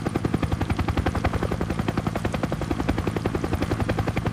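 A helicopter circles overhead, its rotor thumping in a fast, steady rhythm, loud and continuous throughout with no voices.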